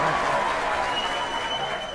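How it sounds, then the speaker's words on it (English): A burst of clapping and crowd noise fills the moment, steady and bright, like a small round of applause. "Let me give you a little round of applause for that."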